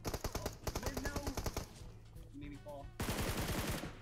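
Rapid bursts of video game gunfire, fast repeated shots in quick strings, then a short lull and another dense burst, loud and close.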